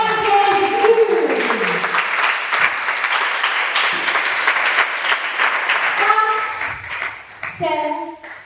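A congregation at a French-language church service breaks into sustained applause and clapping, loud and close, fading as sung or spoken voices return at the end.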